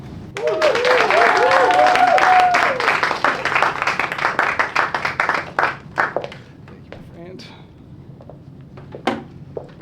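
A live theatre audience claps and cheers in a loud, dense burst of applause welcoming a performer to the stage, then thins into scattered claps and settles into murmur, with a voice sounding over the opening.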